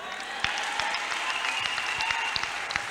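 Steady sustained applause from a church congregation offering praise to the Lord, a dense wash of many hands clapping at moderate distance, with no voices standing out.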